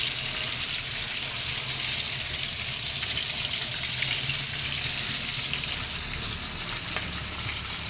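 Crispy chicken pieces frying in a pan, a dense steady sizzle of hot oil, close and constant throughout, with no talking.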